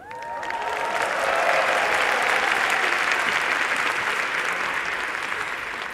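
Applause for engineering graduates at a graduation ceremony: a large audience claps steadily and densely for several seconds, the sound swelling quickly and then holding at an even level.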